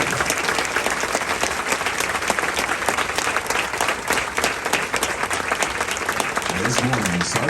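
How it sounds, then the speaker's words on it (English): Marine veterans receive a long burst of crowd applause at a December 2023 recruit graduation ceremony in San Diego; the dense clapping stays steady and loud throughout. "Ladies and gentlemen, a round of applause for their dedicated service to corps and country"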